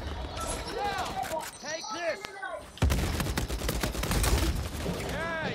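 Rapid bursts of gunfire from Uncharted 4 multiplayer crackle in quick succession, loud and close, mixed with game sound effects and excited voices talking over the action.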